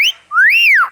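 A captive mimic bird in the Philippines gives a loud, close two-part whistle: a short high note, a pause, then a long rising-and-falling glide.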